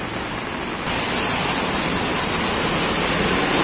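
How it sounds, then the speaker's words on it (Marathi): Heavy rain pours down on a street in Virar, a dense, steady hiss that fills the air close around and grows a little louder after the first second, with no voices. "आवाज एवढा पावसाचा आहे ना"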